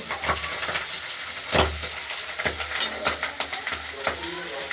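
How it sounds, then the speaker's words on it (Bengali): Pabda fish fry in oil with a steady sizzle in a wok while a utensil scrapes and clatters through the pan in irregular bursts, close and fairly loud. "পাবদা মাছগুলো আমরা কড়াইতে তেল দিয়ে ভেজে নিচ্ছি।"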